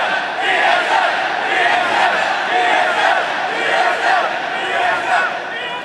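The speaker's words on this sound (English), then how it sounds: "while you get a fantastic applause" A large arena crowd at the 2014 League of Legends World Championship applauds and cheers loudly and steadily throughout, a dense, continuous roar of clapping and shouting with no pauses.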